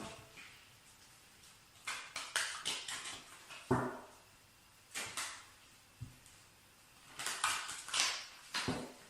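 Tarot cards are shuffled by hand in quick bursts of crisp riffling and tapping, close and fairly quiet, with short pauses between each run.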